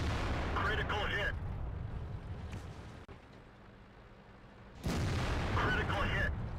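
Tanks take HEAT ammo hits in World of Tanks, heavy booming impacts and rumbling explosions rolling through a noisy battle, a loud burst at the start and another near the end.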